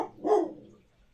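A single dog's bark rings out close and loud, one sharp burst that tails off quickly into quiet, with no voices over it.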